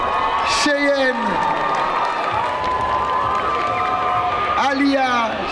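A large crowd at a K-pop contest award ceremony applauds and cheers continuously, with whoops and shouts rising over steady clapping and a voice speaking over the noise.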